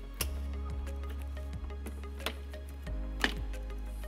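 A flathead screwdriver pops plastic push pins out of an underbody panel behind the wheel well of a 2018 Toyota RAV4, giving a few sharp, isolated clicks over a steady low hum.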